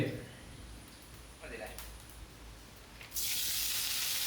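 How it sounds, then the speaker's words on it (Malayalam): Coconut oil poured into a hot pan while cooking in a home kitchen; faint hiss and brief splashes, then a sudden loud, steady sizzle near the end. "നമുക്കിതാ വെളിച്ചെണ്ണ ഒഴിക്കാം"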